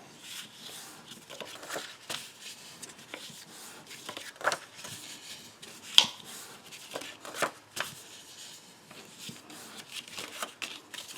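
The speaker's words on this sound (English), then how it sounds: "And then let's fold that." Paper is folded and creased by hand for an envelope accordion, soft close rustling and crinkling with scattered sharp taps and swipes, faint and irregular.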